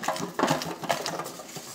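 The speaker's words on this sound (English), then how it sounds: "I'm just going to grease my little container I've got here" Fingers rub grease around the inside of a small baking container, giving soft, quick scraping and patting strokes close by, quiet and uneven in rhythm, with no talking.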